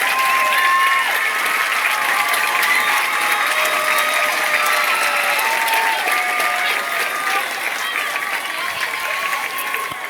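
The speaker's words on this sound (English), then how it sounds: "Let's give Mackenzie and the rest of the court a big round of applause" Sustained crowd applause at a high school football halftime homecoming ceremony, honoring the homecoming queen and her court; dense, loud clapping and cheering fills the stands continuously, with faint tonal whistles and a voice threaded through it.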